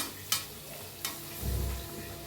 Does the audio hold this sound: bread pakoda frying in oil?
yes